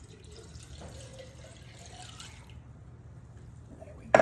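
Spring water pours from a bottle over a kitchen sink while making fresh lemonade, a soft steady trickle and splash at close range, fairly quiet against faint room noise.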